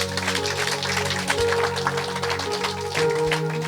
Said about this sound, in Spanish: Fuerte aplausos al Señor.